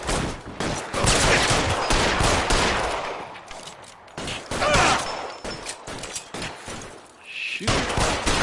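Gunfire in the PS5 remaster of LA Noire during a shootout comes as loud repeated cracks and bursts in clusters with brief lulls, close and dense, over a background of game sound.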